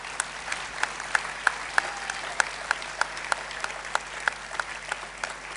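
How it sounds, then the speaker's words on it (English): A school annual day audience applauds guests as they come up onto the stage. The clapping is steady and moderate, with individual claps standing out distinctly, from a fairly small crowd. "Can we give them a round of applause,"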